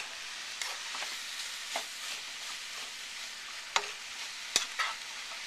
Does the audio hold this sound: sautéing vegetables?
yes